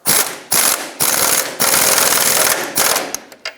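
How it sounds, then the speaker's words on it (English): A ratchet tightens the nut on a lower control arm bolt of a 1996-2002 Toyota 4Runner, with several loud, close bursts of rapid clicking separated by short pauses. "Now let's tighten the rear one, hold the bolt, and tighten up the nut side."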